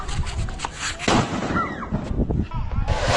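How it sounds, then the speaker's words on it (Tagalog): A dart bomb, a powerful illegal firecracker, goes off in loud sharp bursts and crackles outdoors, with people talking between the blasts. "Dart bomb ang tawag sa malakas na paputok na ito"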